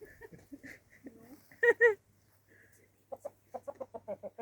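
Cochin hens and ordinary chickens meeting for the first time, a hen scuffling with a rooster: close clucking, a loud squawk, then a rapid run of agitated clucks, with a person talking softly nearby.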